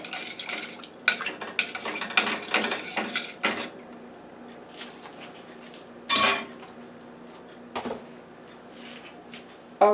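A metal spoon stirs garlic paste into a fish and corn chowder in a pot, producing a quick cluster of scraping clatters and knocks followed by a few sparse, louder clanks.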